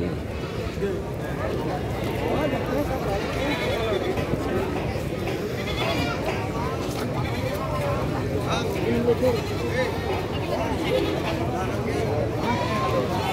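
Young goats around six to seven months old bleat repeatedly at a livestock market, their calls overlapping amid a background murmur of people talking.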